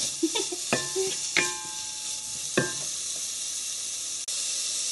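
Cooking oil sizzles steadily in a pan while ingredients are sautéed, a constant hiss broken by a few sharp clinks and scrapes of a utensil against the pan.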